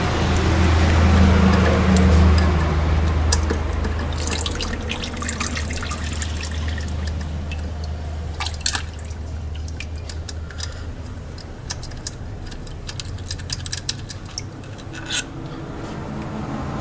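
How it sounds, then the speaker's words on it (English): Transmission fluid drains from a Ford Territory's four-speed automatic gearbox, which is still a bit hot. A steady wet trickle and rush runs throughout, with scattered drips and small ticks over a low hum that fades after the first few seconds. "it's probably a good idea to just let it drain a little bit."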